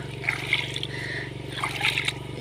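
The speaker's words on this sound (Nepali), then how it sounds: "यहाँनिर चाहिँ पानी यसरी बगिरहन्छ।" A small stream of water runs past an organic vegetable patch, a soft continuous trickle with light gurgles and splashes over a steady low background hum.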